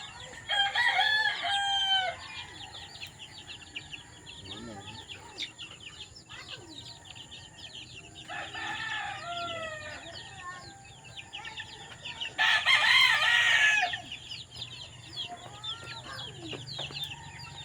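Young chicks, newly put out on the range, chirp and cluck in a busy flock, with several louder bursts of calling rising over steady peeping, while someone talks at points.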